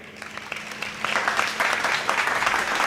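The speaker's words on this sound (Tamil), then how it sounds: "முதல்ல சகோதரிக்கு ஒரு நல்ல கைத்தட்டு கொடுங்க" Audience applause at a Tamil Margazhi-month pattimandram debate, clapping that starts thin and swells into a fuller, steady round of hand claps after the first second.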